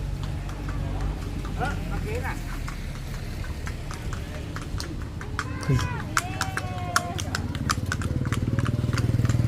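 A blinkered horse pulling a carriage at Wat Phra That Lampang Luang temple clip-clops in a steady, even hoof rhythm, close by, with engine rumble in the background and people chatting over it.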